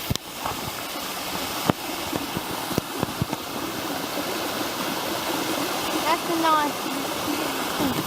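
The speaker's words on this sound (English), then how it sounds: "Is it a nice waterfall" Waterfall in the Grose Valley bushland, a steady broadband rush of falling water running continuously underneath, with people talking briefly over it and a few bird chirps near the end.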